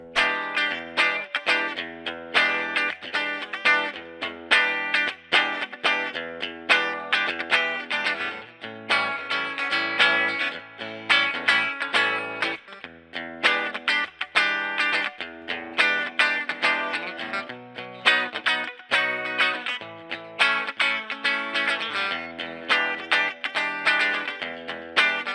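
An electric guitar on the bridge pickup plays a continuous riff-driven passage through a Fender Blues Junior Tweed tube amp, EQs at noon, with a gritty, driven tone and a light wash of reverb. No talking.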